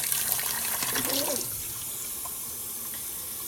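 Tap water runs steadily into a pot of eggs with a brief splashy burst early on, then settles into a constant rushing flow.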